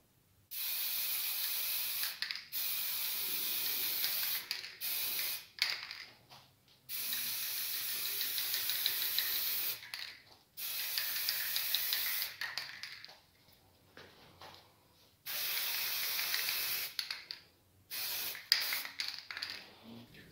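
An aerosol can sprays light coats onto a Boba Fett helmet in repeated hissing bursts of a few seconds each, separated by short pauses and faint handling clicks, close and without talk.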